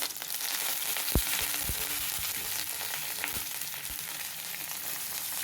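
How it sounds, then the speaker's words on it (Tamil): Cumin, fennel and curry leaves splutter in hot oil for prawn masala, a loud dense crackling sizzle with a few sharp pops and taps throughout, without talk. "ஜீரகமும் சோம்பும் பொரிஞ்ச உடனே கருவேப்பிலை"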